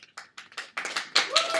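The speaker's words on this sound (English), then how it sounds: "This is where you clap." A few students in a university classroom clap in scattered, separate claps that quickly thicken into a short burst of applause, fairly close.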